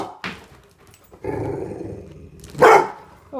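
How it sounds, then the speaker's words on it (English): A puppy growls and gives short barks at a balloon, close and loud, with a few brief low growls between sharper yips. "what are you growling at? You're growling at the balloon?"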